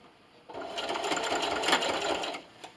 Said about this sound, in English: I'm going to sew right up to this seam line.